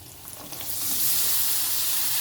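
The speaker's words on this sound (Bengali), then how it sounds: "প্রথমে দিয়ে দিলাম কাঁচা পেঁয়াজ এবং মরিচ তেলের সাথে। এখন দিয়ে দিচ্ছি সবজি" Vegetables sizzle in hot oil with raw onion and chili in a pan, a steady loud frying hiss that swells and holds, with no one talking.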